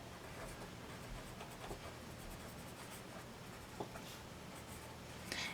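Pencil scratches lightly across paper in quiet, continuous strokes with small taps, soft and close under a faint background hiss.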